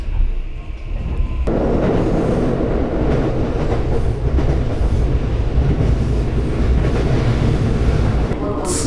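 An Osaka Loop Line train running on rails, heard from inside: steady loud rolling rumble with rhythmic wheel clatter, starting after a brief quieter moment and continuing throughout.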